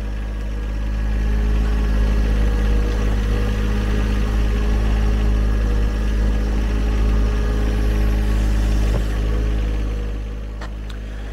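A John Deere 1025R compact tractor with an AF10 plow pushing wet snow, its engine holding a steady, loud low drone close by for several seconds before easing down.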